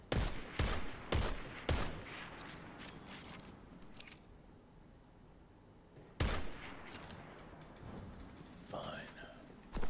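Gunfire in Destiny 2: Forsaken: several loud, close single shots in quick succession, a pause filled with quiet ambience and mechanical creaks, then another sharp shot and softer game effects, with a voice talking underneath.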